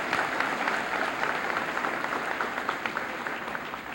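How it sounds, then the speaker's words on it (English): A high school senior assembly audience gives a steady round of applause for students, a dense but somewhat distant patter of clapping with a faint hum underneath. "Let's give those students a round of applause."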